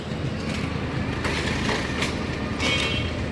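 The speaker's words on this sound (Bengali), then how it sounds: "একটি ট্রেন আসছে" A train arriving at Ghorashal railway station produces a steady, loud rumble of wheels and carriages rolling close by, with faint rattling on top and no voices.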